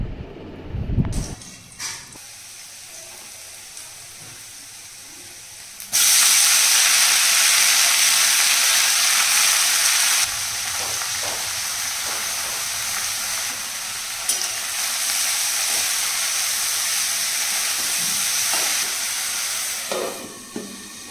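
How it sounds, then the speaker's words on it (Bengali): Green chilies and garlic tempering in hot oil in a covered pan, bursting into a loud, sudden sizzle after a few quiet clattering moments, then settling into a sustained hissing crackle with occasional louder pops and spits. "কাঁচা লঙ্কা আর রসুন ফোড়ন দিয়ে সঙ্গে সঙ্গে ঢাকনা দিয়ে দিলাম"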